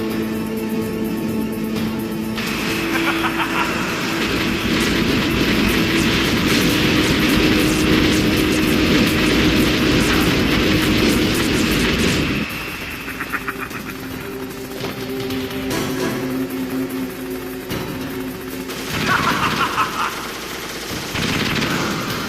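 A Hind attack helicopter assaults in the Metal Gear Solid video game, its rotor and engine roaring loudly with bursts of machine-gun fire throughout, dropping to lower rumbling game noise midway with further bursts near the end.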